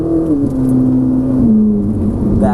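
A Ferrari 458 Italia's engine sounds steadily and loudly as the car gathers speed around a track, its tone sliding smoothly, then climbing sharply again near the end.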